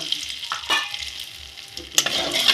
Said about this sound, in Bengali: একটু নাড়াচাড়া করে কেটে রাখা পনিরগুলো ভেজে নিব।